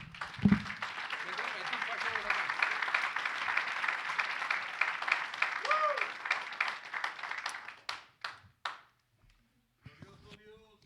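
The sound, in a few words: church congregation clapping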